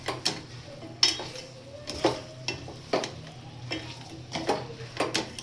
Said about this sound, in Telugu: కలుపుకోవాలి నీట్గా.